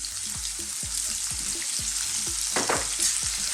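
Sliced red onions with a pinch of salt sizzle and fry steadily in a pan, with a repeating low knock of a spoon stirring against it throughout and no voices.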